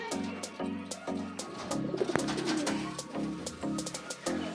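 Racing pigeons coo in soft, repeated low pulses close by, with brief chirps and other bird sounds mixed in during a derby race.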